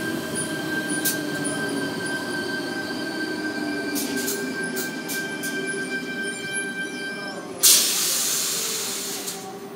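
A Sydney Tangara commuter train departing a platform at Sydenham hums and rolls with steady tonal whines and wheel squeals, then a sharp hiss of air bursts out and fades away.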